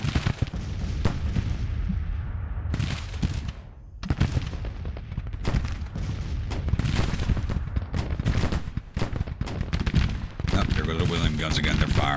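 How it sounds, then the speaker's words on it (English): Massed Civil War musket and cannon fire crackles in Grand Tactician: The Civil War, dense continuous volleys and booms with a short lull, someone talking over the battle. "Guns again, they're firing."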